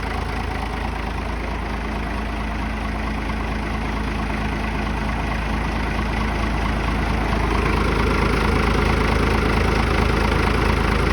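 A car engine is held at a steady elevated speed, around 2,000 rpm, with a constant mid-pitched drone that rises slightly near the end, loud and close with no talk.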